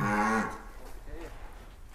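A large cow on a cattle farm gives one loud, low moo at the start, then quieter breathy rumbles follow nearby.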